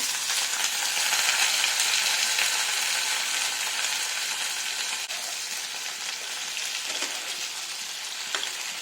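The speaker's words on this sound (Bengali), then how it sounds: "আর একটু কালো জিরে ফোড়ন দিয়ে নিলাম এবার কেটে রাখা ঝিঙেগুলো দিয়ে দেব" Chopped ridge gourd frying in oil with nigella seeds and a dried red chilli, a loud continuous close-up sizzle that holds steady throughout with a couple of faint taps near the end.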